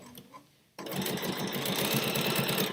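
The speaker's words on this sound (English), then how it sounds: "Taking my pins out when I get to them because I don't want to sew over my pins." A sewing machine runs steadily, stitching fabric at a fast, even rhythm after a brief quiet start, close and fairly loud with no talk.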